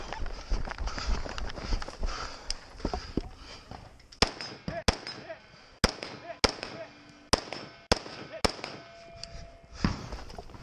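Sharp, loud gunshots ring out at a 2 Gun Action Challenge Match stage, about eight cracks spaced roughly half a second to a second apart in the second half, after a quieter stretch of movement and shuffling.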